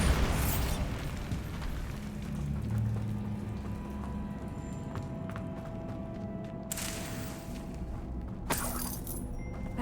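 Bombarda spell explosions in the video game Hogwarts Legacy: dense, rumbling game audio with sharp bright bursts near the end, over a steady layer of background game sound.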